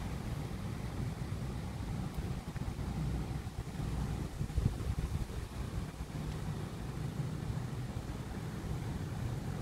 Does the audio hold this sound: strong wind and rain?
yes